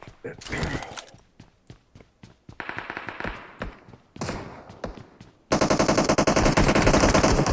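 AK rifle gunfire in PUBG Mobile, several rapid bursts of automatic shots with gaps between, ending in a loud sustained close burst, with game mechanism clicks and creaks mixed in.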